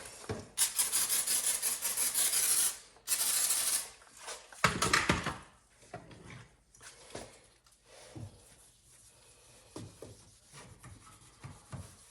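A car headlight lens being wet-sanded with 3000 grit sandpaper during restoration, giving long steady rubbing strokes in bursts, then shorter scuffs and handling noises, close and alone.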